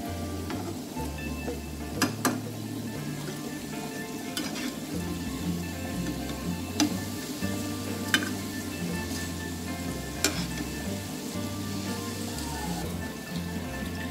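Masala tea simmers in a pot on a stove, giving a continuous low bubbling hiss with a few sharp clicks and small pops spread across it.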